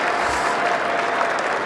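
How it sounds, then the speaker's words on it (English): A sunny cricket Test match crowd at Trent Bridge, England versus Zimbabwe, gives steady, moderately distant applause, a dense even patter of clapping that holds for the whole stretch. "Crowd applauding, they're enjoying the sunshine."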